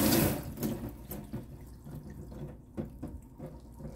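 Hot tap water running into a sink while washing kimchi stew ingredients in winter, a steady splashing stream with a louder gush at the start, no talking.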